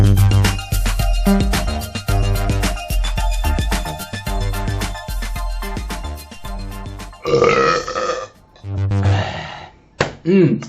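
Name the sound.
burp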